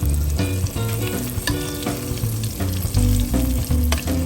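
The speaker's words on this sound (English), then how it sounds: "we're going to take this beautiful oyster mushroom and we're just going to drop it right there in the oil" Oyster mushroom frying in hot oil, a steady loud sizzle running throughout with music-like tonal bands on top, no talking.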